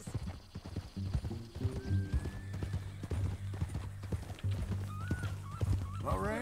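Steady clip-clop of horse hooves close by in the video game Red Dead Redemption 2, with a horse whinnying a couple of times near the end.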